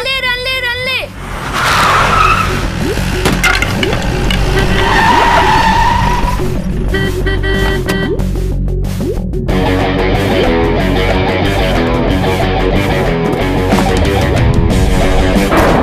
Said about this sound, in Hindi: क्या बे, गाड़ी रिवर्स लेके भागने का सोच रहा है क्या?